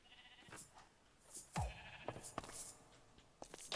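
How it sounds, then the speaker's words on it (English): Sheep in Minecraft give a few short, faint bleats spread across a few seconds, mixed with soft clicks and thumps from nearby game noise. "kill some sheep"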